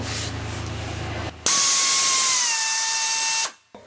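A pneumatic nut rivet tool sets a rivet nut during a van build, with a low idle hum, then a loud hissing whir rising sharply for about two seconds before cutting off abruptly.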